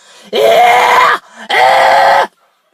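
A voice lets out two long, strained, high-pitched screams on an inward breath, each about a second long, loud and close, with a short pause between.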